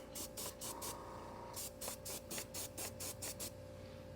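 Aerosol can spraying matte varnish onto a Battletech miniature in thin coats, heard as about a dozen short hissing bursts in a steady back-and-forth rhythm, close and fairly loud, with no talking.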